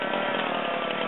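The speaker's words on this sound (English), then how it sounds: "the chainsaws are really noisy" A chainsaw runs at a steady high whine, loud and close, cutting wood in a short continuous burst with no break.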